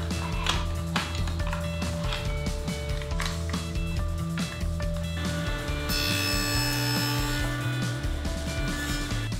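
Table saw with a dado set cutting a kerf in scrap wood: a steady, close machine hum with tonal whine throughout, a rough rasping bite partway through, and no voices.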